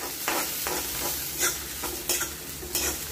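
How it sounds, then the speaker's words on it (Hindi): Chicken lollipop pieces sauté with vegetables in a hot pan over a high flame, a close steady sizzle punctuated by repeated scraping stirs of a spoon, with no voices. "हमें इसे पकाना नहीं है, जस्ट हमको इसको सॉटे करना है सब सब्जियों के साथ में"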